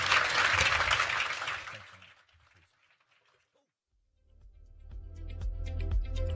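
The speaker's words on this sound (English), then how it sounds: "So a big round of applause for Ali Zaidi." An energy forum audience gives loud applause that fades out after about two seconds, followed by near silence and then rising music.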